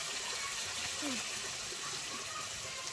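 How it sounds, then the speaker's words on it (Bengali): Water poured into a pan of cauliflower and potatoes cooking for a cauliflower roast, a steady broad gushing rush that continues evenly without pause, with faint kitchen noise underneath. "এবার আমি জল দিয়ে দেবো।"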